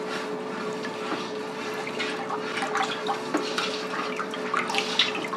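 Lye water slowly poured into oil for homemade soap, a continuous close liquid trickle and splash with faint bubbling, steady and moderately loud with no talking.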